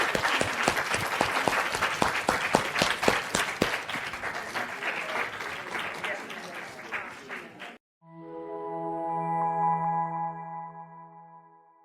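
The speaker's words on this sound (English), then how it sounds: "Can we have a huge round of applause for our podcaster?" An audience applauds a podcaster after a talk, a dense burst of clapping that carries on for several seconds, then cuts off abruptly and gives way to a sustained tonal chime.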